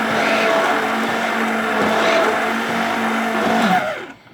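A blender whirs steadily through a banana milkshake, loud and close, its motor tone holding for about four seconds before cutting off and winding down.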